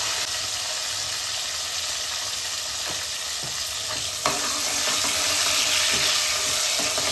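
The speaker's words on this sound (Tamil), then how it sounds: "இந்த எண்ணெயிலேயே வெங்காயம் தக்காளி நல்லா வதங்கணும்" Onions and tomatoes sauté in oil for a prawn gravy, giving a loud continuous sizzle close by with occasional scrapes and stirs. No one speaks.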